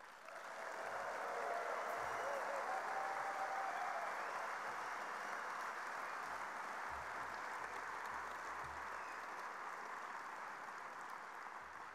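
At the World Solar Challenge awards event, an audience cheers the team managers with broad, steady applause that swells quickly and holds at an even level for many seconds, heard from a slight distance with low rumbles underneath.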